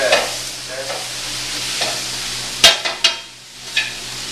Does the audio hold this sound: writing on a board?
no